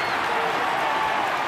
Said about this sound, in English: He drags a big round of applause out of this crowd at Parramatta.